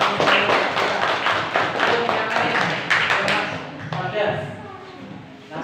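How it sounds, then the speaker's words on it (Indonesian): A sixth-grade primary school class at SDN 1 Tapan claps after a series-and-parallel circuit practical: dense, close applause that fades out over the last couple of seconds. "terima kasih beri aplaus"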